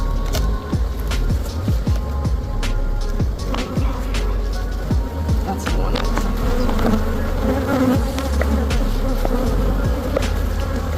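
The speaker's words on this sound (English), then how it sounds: "Because all those bees are down there." Honey bees swarm while a hive is moved from a Langstroth box into a horizontal hive, a loud, continuous close buzzing of many bees with individual insects whizzing past, plus light handling knocks and no talking.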